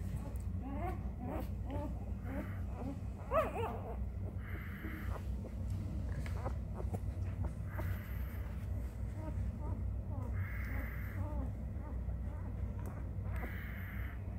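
Young puppies whimper and yip in short, high, scattered cries, close by and fairly quiet over a low background rumble.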